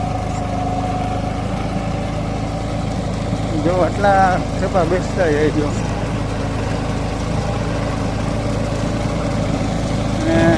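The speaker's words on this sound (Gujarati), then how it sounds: "અને ટ્રેક્ટર છે ને લગભગ 50નું ટ્રેક્ટર છે. જોન લે 50" A John Deere tractor of about 50 hp idles steadily in a field during summer deep ploughing, its low engine hum running continuously under nearby talk.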